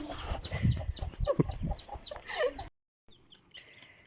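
Several chickens and young chicks cluck and chirp close by in a busy, overlapping chorus, then after a short silence a few softer peeps and clucks continue.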